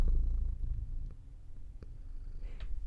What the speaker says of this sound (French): Et oui, j'ai des chats.